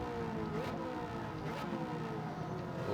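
Corvette ZR1 C6 engine in Gran Turismo 7 held at a steady, droning pitch with shifting harmonics, sounding like sustained cruising on a road course, loud and continuous with no talk.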